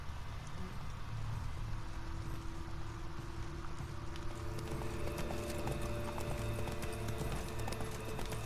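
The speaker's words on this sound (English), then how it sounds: "Horses must have gotten spooked." Horse hooves clip-clop steadily in The Witcher 3 video game, with a sustained neigh carrying over a low rumbling ambient bed and no voices.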